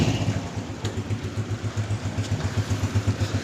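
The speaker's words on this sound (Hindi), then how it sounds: "तो सबसे पहले हम बाइक को स्टार्ट कर लेते हैं।" Honda CG 125 single-cylinder motorcycle engine idling close by, a steady, even low chug with a regular pulsing beat and a faint mechanical clatter on top.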